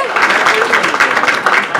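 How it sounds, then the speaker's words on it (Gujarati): Audience clapping at a cultural program for a children's drama during a Paryushan Parva celebration, a steady dense patter of applause filling the whole stretch at close range. "જોરદાર તાળીઓ વગાડજો એમના પ્રેક્ટિસ માટે"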